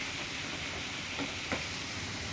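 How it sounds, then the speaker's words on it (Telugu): Bitter gourd (kakarakaya) fries in a pan with crushed garlic, giving a steady, fairly quiet sizzle and hiss throughout, broken by two faint stirring scrapes partway through; no one speaks. "మా ఆయన కాకరకాయ ఫ్రై చేస్తున్నానండి"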